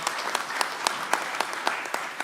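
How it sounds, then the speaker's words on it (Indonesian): Loud, lively applause from an audience at a political party announcement. Claps come thick and close together and sustain evenly from start to end. "Tepuk tangan yang meriah"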